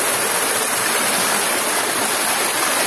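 A natural river rushes over moss-covered rocks near the Way Bernung waterfalls, a loud, steady, dense wash of flowing water with no break or voices.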